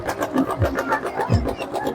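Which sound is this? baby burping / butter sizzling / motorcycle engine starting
motorcycle engine starting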